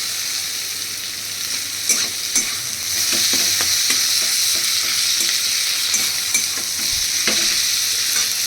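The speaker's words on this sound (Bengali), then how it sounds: "এবার আমি এর মধ্যে দিয়ে দিচ্ছি একটা বড় সাইজের টমেটো কুচি" A large chopped tomato fries with onion and crushed garlic in a hot pan, giving a loud, continuous sizzle close by, with faint scrapes and clicks from stirring.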